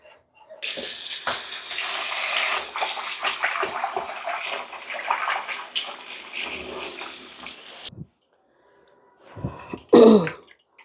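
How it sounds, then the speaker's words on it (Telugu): Cut pieces of sea fish are rinsed clean under steadily running tap water in a kitchen sink for several seconds, then a short pause and a brief splash of handling. "ఇలా ముక్కలు మళ్ళీ నీట్గా కడుక్కోవాలి"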